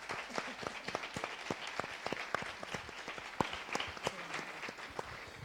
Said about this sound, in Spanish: Por favor, un aplauso para elas.